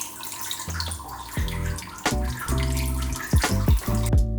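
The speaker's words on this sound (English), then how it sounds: "Now that all the plants are in the aquarium, I fill the aquarium completely with water." Water pours into a shallow planted aquarium tank for a betta, a gurgling, bubbling flow with rising hollow tones as it fills, close and continuous without talk.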